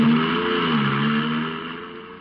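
A small car with no gear shift drives off, its engine hum steady and gradually fading as it pulls away, with no speech over it.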